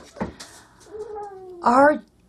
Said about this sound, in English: This cat makes the weirdest noises ever.